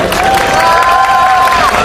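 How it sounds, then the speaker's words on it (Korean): A crowd at a candlelight rally against the Korea–US FTA claps and cheers loudly in a continuous dense roar, with a whistle-like tone and shouts rising above the applause. "박수 많이 쳐주십시오"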